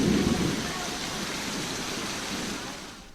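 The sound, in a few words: unseasonal rain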